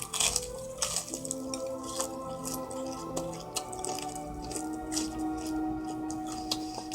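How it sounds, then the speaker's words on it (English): Close crunchy bites of home-cooked fried chicken, a string of sharp crackling crunches and chewing over a steady low background hum. "it's something about that home cooked fried chicken. I got that crunch."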